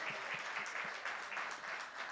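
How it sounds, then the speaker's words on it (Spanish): A church congregation breaks into applause, a quiet, distant patter of many hands clapping in a brief continuous burst. "Damos un aplauso porque hay pinturas para poder pintar la"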